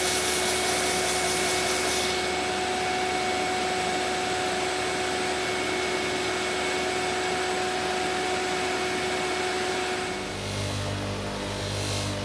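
Belt grinder running a 60 grit belt against a knife handle, a continuous loud abrasive whir with steady motor hum that shifts in tone near the end as pressure changes, close and without talk.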